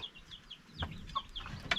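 Free-range chickens loose on a provincial farm, heard faintly as a few scattered clucks and soft calls over low background noise, with a couple of louder bird notes near the end.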